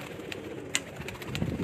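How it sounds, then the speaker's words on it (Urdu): A pure-breed pigeon of the '79' line coos softly on a rooftop loft in Sialkot, low murmuring calls with one brief sharper note, faint and close against quiet background noise. "یہ 79 والا پیور کبوتر ہے"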